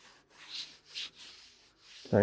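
Block sanding on a Mazda MX-5 Miata body panel during respray prep: three soft, even rubbing strokes with short pauses, ending in a brief low knock.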